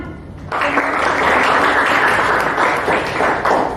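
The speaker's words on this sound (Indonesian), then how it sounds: "Tepuk tangan." A burst of applause from a group starts abruptly and continues steadily, dense clapping filling the room for a few seconds.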